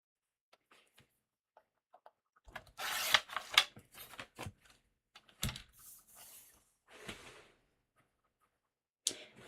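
Card stock being cut for a craft project gives a few close scratchy rubbing strokes and snips, separated by quiet pauses, with a sharp click or two.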